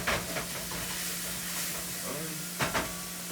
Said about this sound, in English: once we are done browning this meat, and it does appear to be pretty brown, it's all nice and browned up now.